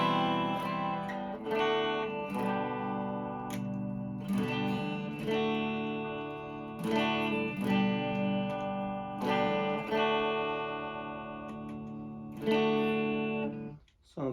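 A Harley Benton EX-84 Modern electric guitar played through a semi-clean tone, ringing chords and picked notes with a touch of grit and effects, loud and alone, with rhythmic strums and sustained decays over about fourteen seconds.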